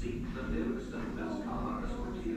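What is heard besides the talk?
No distinct noise like a dog, phone or traffic.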